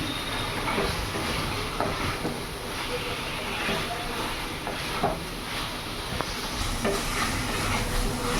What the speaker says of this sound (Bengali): গ্যাসের ফ্লেমটা আমি মিডিয়াম রাখবো কমানো ছিল সিম অ্যাড করা ছিল আমার ভালো করে আমি কষে নেবো আলুর সাথে